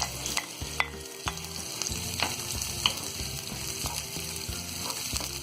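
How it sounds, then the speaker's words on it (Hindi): Chopped onions, ginger and garlic fry in hot oil in a pan for a brinjal masala, a steady close sizzle broken by regular scraping stirs of a spatula, with no voices. "प्याज को हम यहाँ हल्का सा फ्राई करेंगे"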